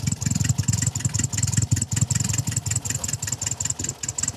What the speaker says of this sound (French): on va faire partir ça pour entendre le son qui est unique à une coccinelle